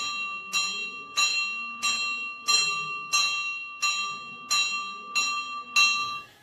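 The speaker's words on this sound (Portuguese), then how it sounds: "vou bater o sino" A bell struck in a steady rhythm, about eight ringing strokes at even intervals, each with a bright metallic onset and a lingering ring, fairly near and alone.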